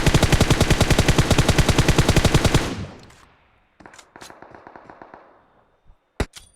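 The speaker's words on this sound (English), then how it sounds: "1947 Bew boldly shooting from up on top of this ridge at everyone he can see with that 3x scope on his M416." Automatic M416 rifle fire in PUBG Mobile, a loud rapid burst of evenly spaced shots lasting over two seconds, then fading echo, scattered distant shots and a final sharp crack.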